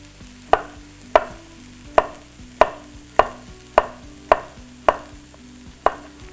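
Zucchini sliced with a knife on a cutting board for a zucchini lasagna: nine crisp, evenly spaced chops land about every half second, close and clear over a low steady hum.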